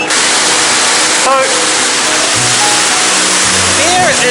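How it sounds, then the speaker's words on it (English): Loud, steady roar of Niagara Falls echoing through the tunnel behind the waterfall, a dense broadband wash of falling water that fills the space throughout, with faint low hums and brief tonal sounds beneath it. "you might be able to hear a bit of a rumble sound. The rumble is of the waterfall."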